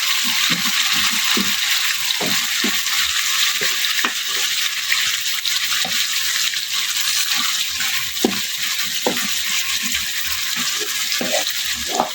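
Mustard greens for sarson ka saag dropped into a pan of golden fried garlic, giving a steady, loud sizzle and hiss with scattered stirring clinks and scrapes throughout, no talking.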